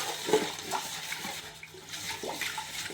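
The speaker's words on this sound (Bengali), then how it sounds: "দিয়ে দিচ্ছে জল" Water poured into a cooking mixture with salt and white oil, a faint, brief splashing and trickling, quiet and close, alone without talk.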